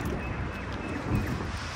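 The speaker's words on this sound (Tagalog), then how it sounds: "mahangin ngayon." Wind buffets the microphone outdoors in the UAE, making a steady, rough broadband rush that lasts throughout the clip without speech.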